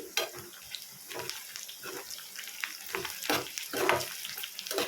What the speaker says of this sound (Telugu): ఆనియన్స్ కొంచెం దూరగా వేగుతున్నాయి ఇందులో ఒక నాలుగు పచ్చిమిర్చి వేసుకోవాలి వేసుకొని ఒకసారి కలుపుకోవాలి